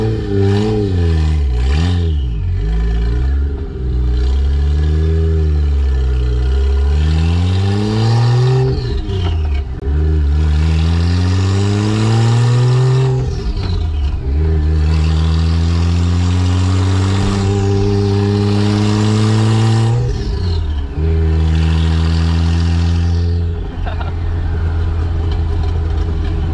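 A Toyota Aristo with a 1JZ-GTE engine and five-speed manual revs loudly from inside the cabin, pitch climbing through each gear then dropping at shifts, repeating several times with no talk over the steady engine drone.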